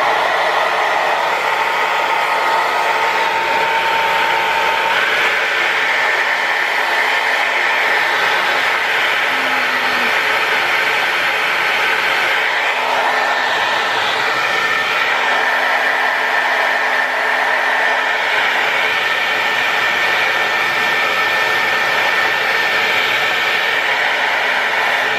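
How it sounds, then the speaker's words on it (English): A blow dryer runs continuously for the full stretch, a loud, steady airy whir with no pauses. "again with the blow dryer"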